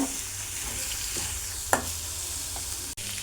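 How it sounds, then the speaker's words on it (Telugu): Chana dal frying in a pan, a continuous close sizzle with a sharp scrape of stirring near the middle and no voices. "పప్పును కూడా ఇలా ఫ్రై చేసుకోవాలి"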